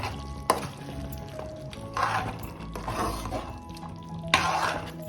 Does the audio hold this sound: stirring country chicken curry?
yes